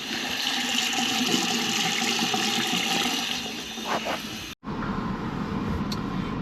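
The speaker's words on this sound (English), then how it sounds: "Wow, that drained fast." Water rushes down a freshly unclogged bathroom sink drain, a steady broadband gurgling wash that runs loud for several seconds, cuts out abruptly, then resumes with a slightly thinner flow.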